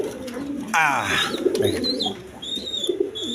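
King pigeons at a pigeon farm coo in repeated low, throaty rolls close by, while someone speaks briefly over them and a higher chirp sounds now and then.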